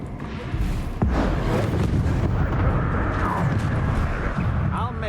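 A Confringo blasting curse goes off in Hogwarts Legacy: a sudden loud boom at about one second followed by a long rumbling, crackling roar that holds steady for several seconds, with a voice speaking over it.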